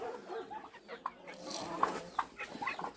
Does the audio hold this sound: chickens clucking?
yes